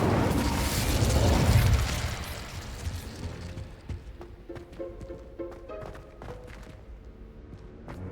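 A fiery Incendio spell cast in the Hogwarts Legacy video game: a loud whooshing burst of flame that fades after about two seconds into lighter clattering and pops.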